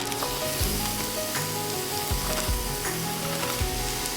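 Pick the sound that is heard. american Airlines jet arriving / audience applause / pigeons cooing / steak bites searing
steak bites searing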